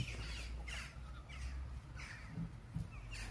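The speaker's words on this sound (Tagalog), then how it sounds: "Oh, a lot of birds there." Crows caw repeatedly in an outdoor vegetable garden with onions, several harsh calls at irregular intervals over a steady background hum.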